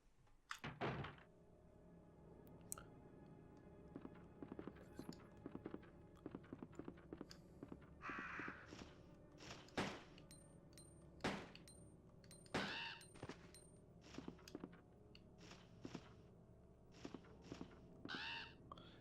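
Crow caws in the PS1 video game Resident Evil 2, repeated bursts scattered over a steady game soundtrack alongside thumps and footstep-like clicks, with no talk.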